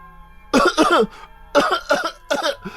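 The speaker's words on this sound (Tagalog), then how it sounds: "panay ang ubo, nabilaukan dahil sa mutya" A person coughs in three harsh, rapid bursts spaced across a couple of seconds, sounding close and strained like choking, with no speech.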